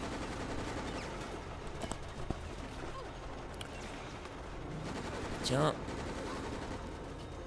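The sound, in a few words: gunfire from the video game Resident Evil: Operation Raccoon City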